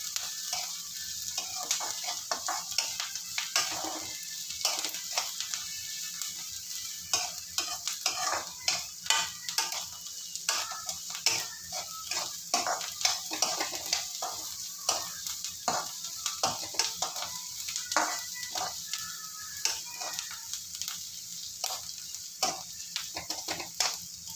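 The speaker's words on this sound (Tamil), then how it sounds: "வெங்காயம் வதங்கட்டும்" Onions sauté in a pan while being stirred, a steady sizzle broken by frequent quick scraping and tapping strokes of a spoon, close up and continuous with no voices.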